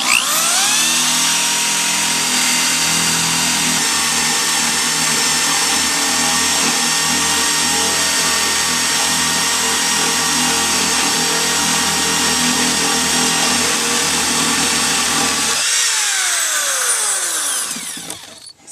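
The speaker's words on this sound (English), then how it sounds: "All right, go ahead and start drilling." A power drill with a large bit bores a hole through the wood of a top bar beehive, a loud continuous whine that runs steadily for most of the clip, then changes pitch and winds down at the end.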